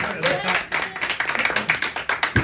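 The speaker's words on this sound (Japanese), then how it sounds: "拍手。" An audience claps at an acoustic guitar evening: a run of quick, rhythmic hand claps, close and fairly loud, with voices talking and calling out over it.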